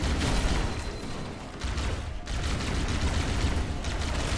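A plasma rifle fires in Halo: Combat Evolved, a dense, continuous rapid stream of shots with brief dips, loud and sustained throughout.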